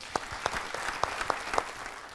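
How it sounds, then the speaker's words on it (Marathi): A small audience claps, a scattering of distinct hand claps over a soft wash of applause, fairly close. "एकदा जोरदार टाळ्या होऊन जाऊ देत"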